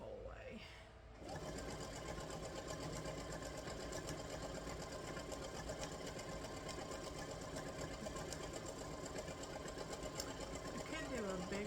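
A sewing machine runs steadily and continuously while quilting a small wave stitch on a CRK print, a close mechanical hum that starts after a brief quiet moment and carries on unbroken, with a voice faintly under it.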